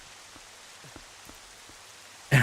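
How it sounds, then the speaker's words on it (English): Rain falls in The Legend of Zelda: Twilight Princess as a faint, even patter with scattered soft drops, then a sudden loud burst of noise at the very end. "It's just raining. It's just freaking raining."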